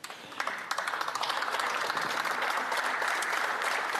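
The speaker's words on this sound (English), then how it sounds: "they all deserve a good round of applause." Members in the House of Commons chamber break into applause, starting with a few scattered sharp claps that quickly swell into a steady, moderately distant patter of many hands.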